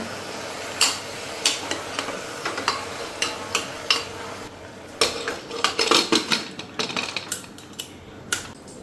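Metal pots and a pressure cooker lid clatter and clank in a home kitchen, with a series of sharp, close knocks and scrapes of metal on metal, irregular and growing busier, and no talking.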